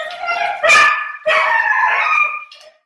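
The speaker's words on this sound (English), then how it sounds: "Sorry about the dogs," Several dogs bark and howl at home, close and loud, in two drawn-out bursts with a short bark in between.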